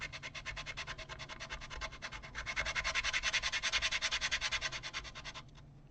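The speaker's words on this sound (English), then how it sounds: "I'm going to use my little sanding tool here, and I'm going cross grain" Rhythmic back-and-forth hand sanding across the grain on wood of a Gibson Chet Atkins model guitar, steady scratchy strokes in a quick regular pulse that grow louder midway, then stop abruptly.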